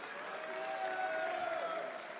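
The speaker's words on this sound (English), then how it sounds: "On home soil, the crowd urging him on." A darts crowd on home soil cheers and applauds steadily for a 170 bullseye finish at the International Darts event, a dense, sustained roar of clapping and voices.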